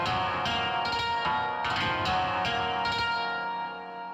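Plucked notes ring out through a guitar amp plugin with a distorted tone, chords and single notes layered with echo, fairly loud and steady throughout.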